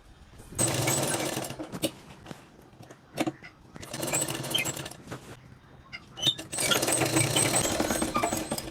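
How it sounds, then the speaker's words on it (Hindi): A sewing machine top stitching the neckline of a dress, running in three long bursts of steady mechanical whirring with short pauses between them and faint handling sounds in the gaps. "तो मैं ऊपर से टॉप स्टिच लगा लूँगी"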